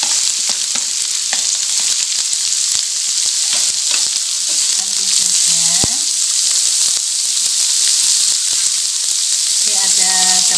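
Green beans tumble into a hot frying pan of browned, fragrant aromatics for a potato and carrot risoles filling, setting off a loud, steady sizzle with scattered stirring clatter and no talk.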